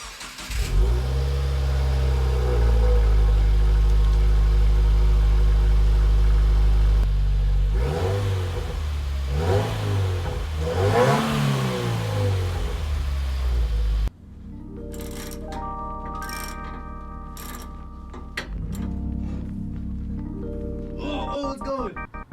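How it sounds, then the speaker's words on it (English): A Subaru WRX on its stock exhaust idles steadily, then revs up in several rising and falling pulls. A shorter, lighter engine passage follows after a cut. "I'm gonna get a few revs. Just with the stock exhaust real quick"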